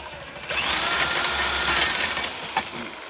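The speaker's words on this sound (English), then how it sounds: "Okay, time to drill." A power drill bores into flatbed side boards with a loud, close, whining grind that runs steadily for about two seconds, ends, and is followed by a short knock, with no talk.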